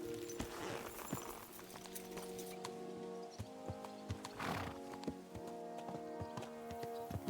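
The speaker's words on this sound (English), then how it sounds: "Horse." Horse hooves clip-clop at a steady walking pace in the medieval world of Kingdom Come: Deliverance II, joined by a clear neigh midway, all heard up close with no talking.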